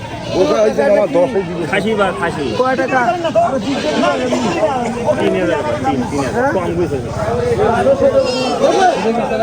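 Goats bleat repeatedly amid a crowd of chattering voices and people talking nearby, a busy, loud livestock market scene where sacrificial animals are sold for Qurbani.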